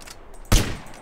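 A single sharp gunshot in the video game MTA DayZ, one loud close burst with a short decaying tail over a quiet background.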